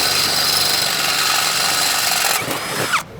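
A power drill opens up a screw hole in a DAC Industries panic bar on a chain link gate. It gives a loud, close, continuous whine for over two seconds, then winds down and stops.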